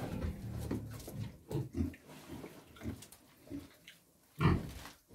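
A sow on a pig farm during artificial insemination gives several low grunts and snuffling noises at close range, with quieter rustling between them and a louder grunt near the end.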